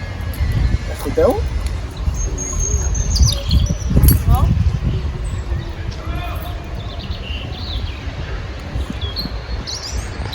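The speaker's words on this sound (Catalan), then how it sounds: "una persona amb un reclam criant els ocells i els ocells li contesten" Birds chirp and call back and forth outdoors in a city park, answering a person's bird call, over steady low background noise and people talking, with short bright calls scattered throughout.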